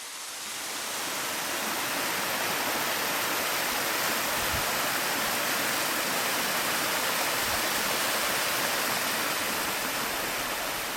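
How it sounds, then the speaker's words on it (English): Several waterfalls and a brook rush along a Mt Ascutney hiking trail in Vermont on a cold November day, a dense, constant roar of falling water close by with no voices. "there's multiple waterfalls on this trail"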